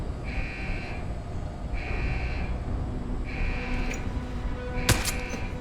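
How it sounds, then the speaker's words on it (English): An alarm in the video game Deus Ex: Human Revolution blares in four evenly spaced electronic pulses, moderately loud, and a sharp click is heard near the end. "Since the alarms are already set off."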